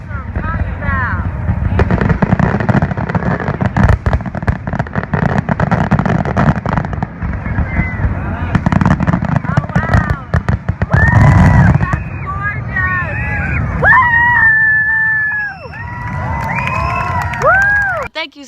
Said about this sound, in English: We're just some fireworks exploding in the sky.